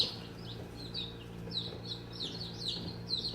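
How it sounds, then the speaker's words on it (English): Many young Buckeye chicks chirping continuously in high, rapid peeps, overlapping one another at moderate loudness with a low background hum. "We have 15 Buckeye chickens."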